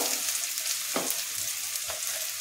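Steady close sizzle of hot oil in a pan as turmeric powder goes in for an egg tadka, with a couple of soft scraping stirs over the continuous hiss.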